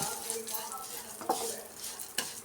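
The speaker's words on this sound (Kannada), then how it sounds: "ತುಪ್ಪದಲ್ಲಿ ಶಾವಿಗೆ ಹುರ್ಕೊಂಡ್ರೆ ತುಂಬ ಚೆನ್ನಾಗಿರುತ್ತೆ" Vermicelli is roasted in ghee over a medium flame with a soft continuous sizzle, while a spoon stirs and scrapes against the pan at close range, sometimes knocking sharply.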